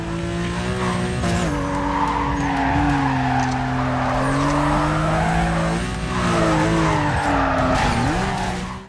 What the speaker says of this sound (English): before tearing off in his Audi